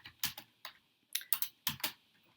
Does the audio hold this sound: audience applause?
no